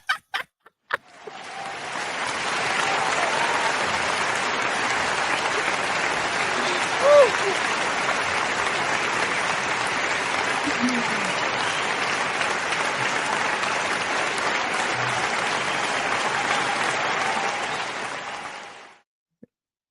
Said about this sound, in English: Let me find my hand claps to make sure that I get y'all.